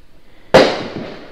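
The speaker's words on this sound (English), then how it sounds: "you'll probably hear firecrackers going off in the background because it's the 4th of July" A single sharp firecracker bang for the 4th of July, bursting loud and close after a quiet start, then trailing off in a long rumbling echo.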